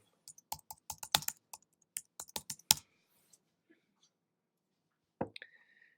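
Quick bursts of keystrokes on a computer keyboard entering a Google search, fast irregular clicks that pause and then give way to a short soft sound near the end.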